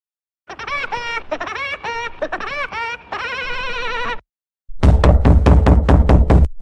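Cartoon police knocking on a door, a rapid run of loud, close raps in quick bursts after a brief pause, following a stretch of animated, squeaky sound effects.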